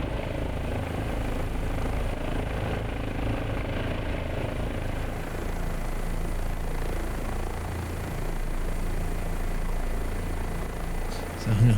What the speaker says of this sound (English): I'm not used to flying this helicopter